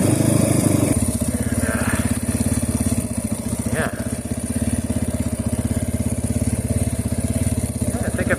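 A 300cc EGL Trailmaster TM38 dirt bike engine lugs at low revs on a trail, a close, steady throbbing pulse that holds throughout with a rough mechanical rattle.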